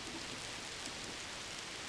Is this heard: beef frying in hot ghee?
no